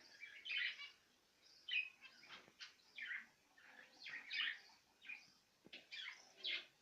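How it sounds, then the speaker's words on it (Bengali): Pet birds kept with pigeons give faint, repeated high chirps and tweets in short bursts with brief pauses, heard alone and without talk. "এক নজরে সবগুলো পাখি এবং কবুতরকে দেখাবো এখন।"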